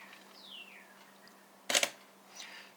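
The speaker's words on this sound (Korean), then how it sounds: "이렇게 누르면은 사진이 1분 40초 동안 5스탑 필터를 사용해 가지고 장노출로 지금 사진을 찍는 겁니다" A camera shutter fires once for a long-exposure photograph taken with a 5-stop filter, giving a sharp, close mechanical clack against an otherwise quiet background.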